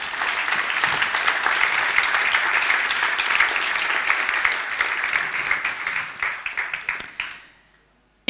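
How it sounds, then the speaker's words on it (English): A crowd at an award ceremony for policy winners gives sustained, dense applause that thins into scattered claps and fades to silence near the end. "a big applause to all the 4 winners"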